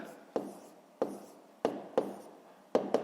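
Quiet, close scratching strokes of a pen writing on paper come in six short bursts at irregular intervals, each a brief scrape that quickly fades.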